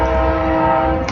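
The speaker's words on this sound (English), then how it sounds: "That's the train." A train passes close by with its horn sounding, a loud, steady, droning rumble that fills the short moment alone, the horn tone holding throughout.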